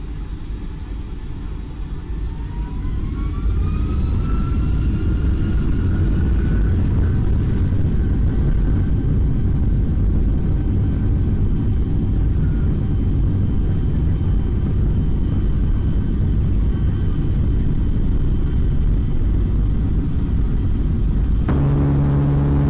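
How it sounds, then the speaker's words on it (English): A Boeing 757 engine heard from a passenger seat near the right wing as it spools up for the takeoff run, a loud, steady low roar with a faint rising whine above it, continuing without a break. "A passenger seated near the right engine decided to record as the plane kicked into high gear."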